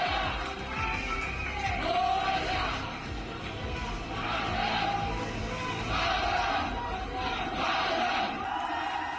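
Crowd of thousands outside a Mumbai railway station roaring and cheering, a sustained wash of voices with rising swells of shouts, distant and dense.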